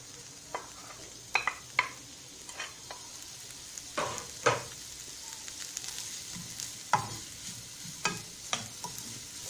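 Onion frying in hot oil in a pan, a steady soft sizzle broken by repeated louder scraping and stirring clicks, close by with no talking.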